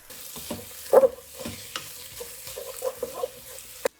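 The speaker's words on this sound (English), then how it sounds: "I'm really mixing this well and stirring it because I want all the black beans to get really well incorporated" Black bean paste being stirred into vegetables in a hot pan, a close sizzle with repeated scraping and stirring strokes and soft clacks of the utensil.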